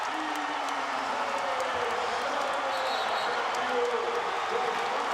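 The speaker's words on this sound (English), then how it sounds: "I just wanted to feel the energy of the crowd as Shelton threw that one down" Arena crowd at a Gonzaga versus Washington State college basketball game roaring steadily after a dunk, a loud sustained wash of cheering with a commentator's voice faintly woven through.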